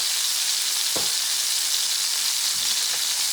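Butter sizzling loudly in a hot cast iron pan, a dense, constant frying hiss up close with a couple of brief knocks from the pan or utensil.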